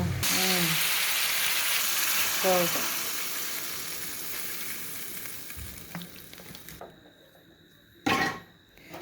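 Bird meat being sautéed in a pot in a village kitchen, with steady loud sizzling and frying throughout, occasional stirring scrapes, and a sharper clatter of the pot lid near the end.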